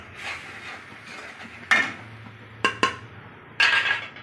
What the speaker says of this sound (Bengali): এটা ভালো করে মিশিয়ে ফেটিয়ে নেবেন।